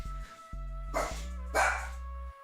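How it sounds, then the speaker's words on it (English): A dog barks twice indoors, two short loud barks close by, over a steady background music track with sustained tones. "I don't know if you were able to hear my dog."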